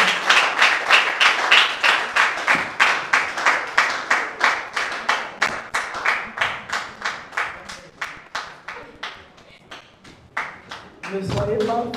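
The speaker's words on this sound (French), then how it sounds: "Nous invitons les acclamations s'il vous plaît." A TV show audience at a children's eloquence competition claps in steady rhythmic unison, loud and close, fading and thinning toward the end before a brief voice and renewed clapping.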